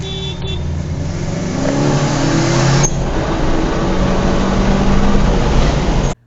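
A tuned 10th-generation Honda Civic with raised turbo boost accelerates hard, its engine note loud, close and rising steadily for several seconds before cutting off abruptly.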